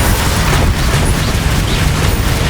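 Confringo and Bombarda explosion spells in the video game Hogwarts Legacy, a loud, dense wall of booming blasts and deep rumble that runs steadily without pause, close and overwhelming, with no voices heard.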